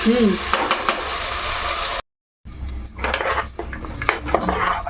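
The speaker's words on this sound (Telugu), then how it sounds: "ఇప్పుడు ఇదిగో పేస్ట్ వేసేస్తున్నాను మనం పెట్టుకున్నాం కదా టమాటాలు ఉల్లిపాయ పేస్ట్ కాజు" Tomato, onion and cashew paste goes into a hot curry pan for mushroom curry, bringing a loud sizzle, scraping and clattering utensil knocks close by, then a short silent break before more stirring and clinks.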